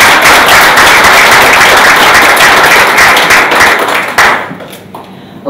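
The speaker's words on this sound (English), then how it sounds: "We start by giving them a round of applause." A round of applause fills a boxing press conference, dense and loud clapping sustained for about four seconds before thinning out and fading.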